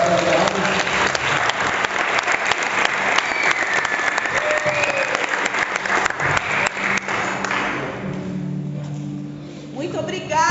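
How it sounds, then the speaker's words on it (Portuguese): A church congregation at a youth service breaks into loud, sustained applause. Dense clapping fills most of the stretch and then tapers off, with voices and crowd noise rising underneath as it fades. "Gente, vamos dar um aplauso."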